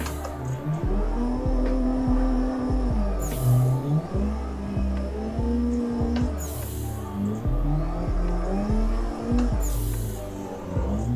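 Simulated race car drifting in Assetto Corsa at a drift event, engine wailing and rising and falling with throttle, long tire squeals through the turns and periodic bursts of louder scrubbing.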